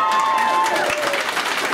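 Cheering and clapping from a crowd at a convention hair auction, a brief burst of mixed voices and hand claps with a whistle-like tone fading early, fairly close and loud.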